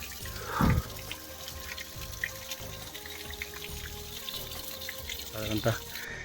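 Clear filtered stream water trickles and splashes steadily along a mountain trekking trail in the Ratangad range, low and continuous, with occasional louder splashes near the start and end.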